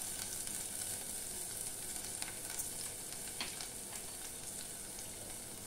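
Green chili, garlic and ginger sizzle in hot oil for paneer molee, a soft, steady frying hiss with light spattering pops and no voices.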